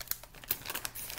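A Doritos chip bag crinkles sharply as hands turn it over, a quick run of close, crisp crackles and rustles at low volume.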